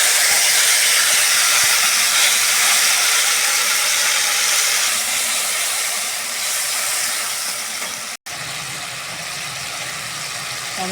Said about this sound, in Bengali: ও গোটা জিরে দিলাম। টমেটো পেস্ট দিলাম।